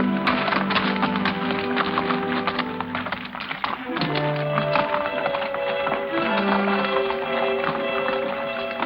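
Horse hooves clip-clop near a stream in a Western cattle-country setting, the taps steady and fairly close, layered over outdoor ambience with some tonal background sound.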